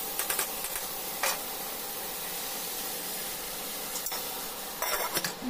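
Eggplant sautéing in a pan with salt, chili powder, Kashmiri chili powder and turmeric, a faint steady sizzle broken by a few scraping bursts of stirring, quiet and close with no talk.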